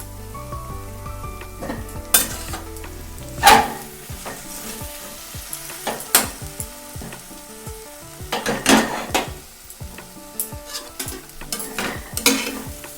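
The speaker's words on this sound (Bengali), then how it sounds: "তো বন্ধুরা গরম মশলা দিয়ে একটু মিশিয়ে নিচ্ছি ভালো করে" Banana flower curry with coconut and chickpeas, seasoned with garam masala, is stirred in a frying pan. Sharp spatula scrapes and knocks come at irregular intervals over a soft, continuous sizzle.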